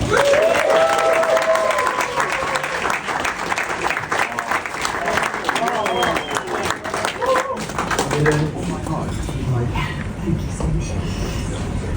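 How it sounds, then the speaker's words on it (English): Audience applause and cheering welcome a guest onto a stage at a live evening event, loud and sustained with dense clapping throughout, tapering slightly toward the end, with some voices mixed in. "So, if everyone could give a huge round of applause as I welcome to the stage uh, Mr. David Beckham."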